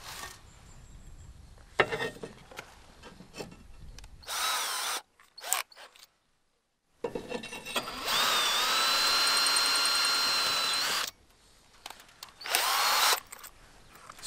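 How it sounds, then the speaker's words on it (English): A power drill drives a 70mm screw through ridge tile into a ridge beam on a stone cottage build. It comes in several whirring bursts, one long and sustained, with pauses and near silence in between. "I've got my 70mm screw. That's going to go into the ridge beam and lock it in place."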